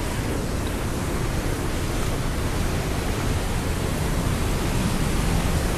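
Waterfall on a river swollen by recent rain: a constant, dense broadband rush of falling water, steady and fairly even throughout, with no voices over it.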